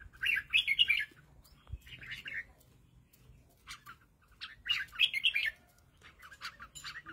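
Red-whiskered bulbuls give bright, rapid chirping phrases in two clear bursts, with fainter scattered calls between them, heard close and without talk.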